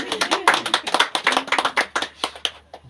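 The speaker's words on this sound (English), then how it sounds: "Why don't you even clap for her, you guys?" A group of teachers at a grafting training session claps for a woman, with crisp, rapid hand claps that thin out toward the end and some voices mixed in.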